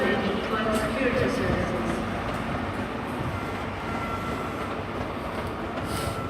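A reverse-formation passenger train with first class at the front pulls into a platform at Bristol Temple Meads, a loud, steady rumble of wheels and engine with faint squeals, while a person talks over it.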